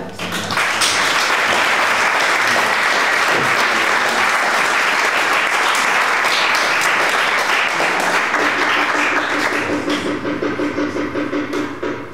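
A large audience at a stage show applauds loudly and steadily for about ten seconds, the clapping dense and sustained before thinning out near the end.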